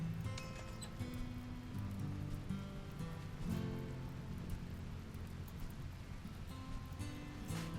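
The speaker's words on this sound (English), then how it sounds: "Here comes the rain, at least." Steady rain falling in a video game, a constant soft hiss of drops across a broad wash of sound, with low tonal ambience underneath, faint and unbroken throughout.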